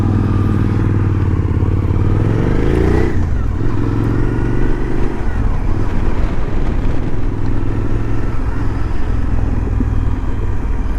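Suzuki V-Strom motorcycle riding on the road, its engine droning steadily under loud wind rush, with one rising rev near the start before settling into a constant cruising roar.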